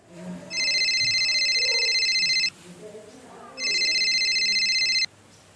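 A telephone call being placed rings out in two long electronic ring bursts with a pause between them, loud and close, with faint voices underneath.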